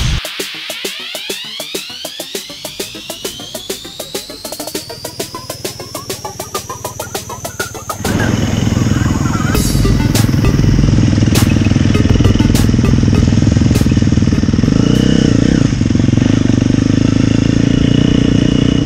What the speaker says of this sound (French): Premier essai, c'est la 250 4 temps du team Atomic Moto